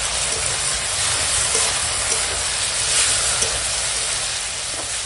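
Steady loud sizzling of ginger, cumin and green chilli paste hitting tomatoes already softened in hot oil with spices, a continuous close hiss with no talk.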